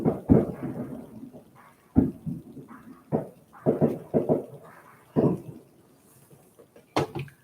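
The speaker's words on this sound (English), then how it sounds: "Look at all this dang fireworks." Fireworks go off outdoors at a distance on a rainy night, a run of irregular muffled booms and pops spaced across several seconds, with no one talking.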